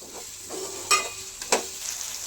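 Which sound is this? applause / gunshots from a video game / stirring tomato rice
stirring tomato rice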